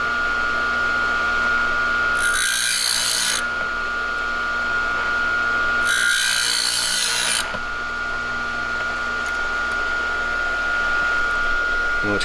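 Hand deburring work on a Harley Road Glide big bore cylinder comes through as two short, bright scraping bursts over a constant workshop hum, close by.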